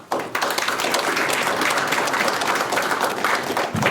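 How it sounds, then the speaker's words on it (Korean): Audience applause fills a hall at a Korean Peninsula affairs forum, dense steady clapping from a large crowd that holds loud for about four seconds before cutting off abruptly. "박수를 주셨으니까"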